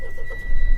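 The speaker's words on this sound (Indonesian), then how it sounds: "Nah, kita hidupin mesinnya." Engine of a 2022 Mitsubishi Triton Ultimate Euro 4 pickup turning over, with a low rumble that swells and settles into a close idle in under a second, with no voices.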